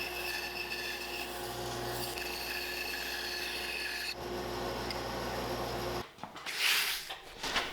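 A bandsaw whines steadily as it cuts an arch in wood for several seconds, then the blade stops and a brief rasping, rubbing noise follows.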